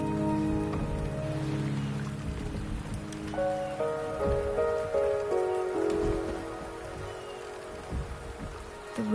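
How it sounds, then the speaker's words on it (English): Steady rain patter in Wuthering Waves, a soft continuous hiss of drops on surfaces beneath a melodic game score with sustained tones. "The rain is subsiding, and the sky will soon clear."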